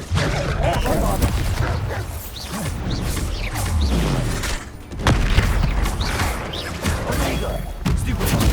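Bombarda spell blasts in the Hogwarts Legacy video game land as repeated heavy booms and crashing impacts amid whooshing combat effects, with a voice talking over the busy, loud fight.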